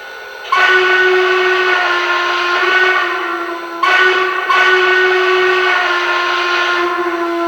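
A hooter-style model train whistle on a Lionel Legacy Pennsylvania Railroad S1 Duplex blows a deep, steady chord, with two long sustained blasts separated by a brief break, loud and near, nothing else heard.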